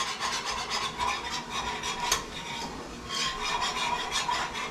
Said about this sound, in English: we're literally going to take a little bit on my whisk, and we're just going to whisk this in